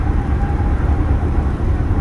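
A car drives on a loud concrete roadway through an airport bypass tunnel beneath a runway, giving a dense, steady low rumble of tire and road noise throughout.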